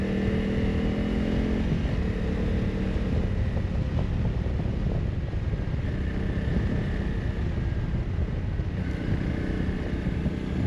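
A motorcycle engine drones at a steady, even pitch while riding in fifth gear at 60 km/h, with constant wind rush over the microphone throughout.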